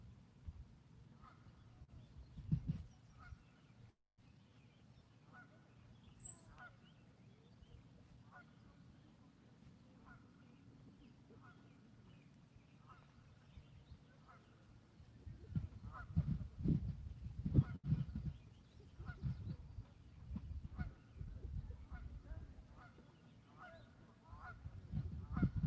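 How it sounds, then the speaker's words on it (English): Geese honk in the distance across a lake, a repeated series of faint calls over steady low background noise, with louder rumbling and handling sounds building in the second half. "You guys hear them geese over there?"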